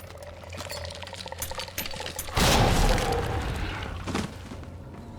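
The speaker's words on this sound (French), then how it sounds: "Je vais plutôt leur lancer une grenade." Grenade blast in Resident Evil 2 Remake, a loud broadband burst erupting midway over a busy game soundscape of clatter and rumble, then decaying over a couple of seconds.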